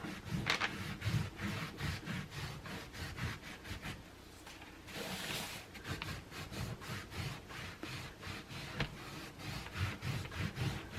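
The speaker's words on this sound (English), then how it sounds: "you take another rag and you rub the excess" Rag rubbing excess toner off a painted surface, a rapid series of rhythmic scrubbing strokes, close and fairly quiet, with a brief pause midway before the back-and-forth resumes.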